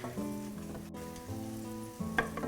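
Chopped onion sizzles in melted butter in a pan for a mushroom risotto, giving a steady close crackle and hiss. A louder flare of frying comes near the end, and no one speaks.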